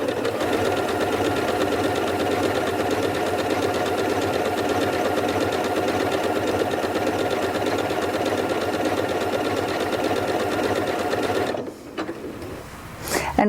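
Janome MC8200 sewing machine stitching a blanket stitch, a steady fast mechanical whir running continuously before stopping abruptly near the end.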